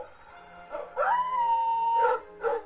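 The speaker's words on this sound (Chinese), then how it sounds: "啊，这杀狗呢，" A dog lets out a short yelp, then a long sustained howl, followed by two more sharp yelps, close and clear, from a library sound effect.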